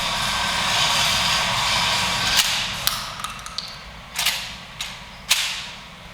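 Shotgun firing during a self-defense shooting drill, several sharp reports spaced out over a few seconds, some clustered close together, heard against a steady outdoor background.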